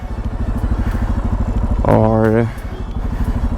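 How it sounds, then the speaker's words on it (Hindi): A motorcycle engine runs at a steady idle with a brief rising rev partway through, loud and close, while a voice speaks briefly. "इंजन स्टार्ट कर दूँ वापस से"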